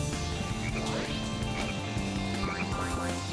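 Repeated frog croaks from a Sonic Heroes stage, sounding several times over continuous game music, fairly close and moderately loud.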